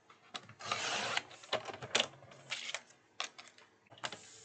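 Cutting a piece of white scrap cardstock with a paper trimmer, a soft sliding rasp followed by several short sharp clicks and taps, close and quiet.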